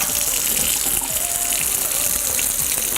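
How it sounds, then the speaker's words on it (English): A kitchen tap runs steadily as bell peppers are rinsed under it, a loud continuous gush of water with faint splashes nearby and no speech. "to get the rest of the seeds out, you just want to rinse them"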